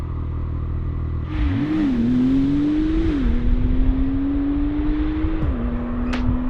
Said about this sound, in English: a compelling need to plant that accelerator pedal and do it all over again